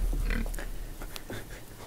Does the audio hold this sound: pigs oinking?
yes